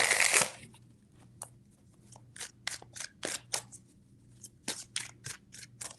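Tarot cards shuffled by hand in close, loud riffling bursts, then a series of sharp card snaps and flicks in an uneven rhythm against a low steady hum, with no talking.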